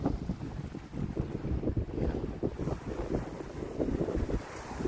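A steady sea breeze at low tide rumbles and buffets across the microphone, with a faint wash of water underneath and no voices.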